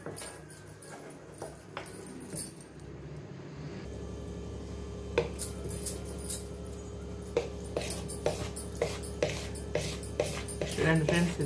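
Jowar flour cake batter is stirred in a bowl as oil is poured in, producing light, irregular clicks and scrapes of the spoon against the bowl over a quiet background.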